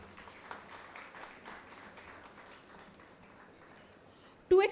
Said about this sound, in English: A warm round of applause for all our dignitaries as they take their seats.